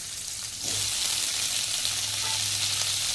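Chopped capsicum sizzles steadily in a hot pan alongside roughly cut onion, a loud, continuous frying hiss that swells as the pieces hit the oil.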